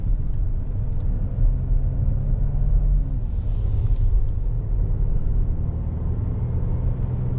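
A 2021 Volvo XC90 T6 AWD SUV cruises along with a steady, loud low rumble of road and engine noise heard from inside the cabin and a short hiss midway; no one talks.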